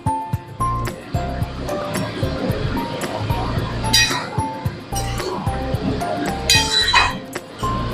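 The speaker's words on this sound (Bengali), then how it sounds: "এবার ধনে পাতা কুচি দিয়ে একটু নাড়িয়ে নামিয়ে দেবো" A pot of bottle gourd and prawn curry with chopped coriander is stirred, giving scraping and clinking of the spoon against the pot in irregular strokes, with someone speaking over it.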